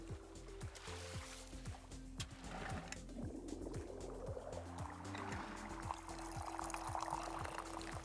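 Tea poured in the Wanderstop video game, with a steady liquid trickle running throughout under looping game music, moderately loud, with no talking.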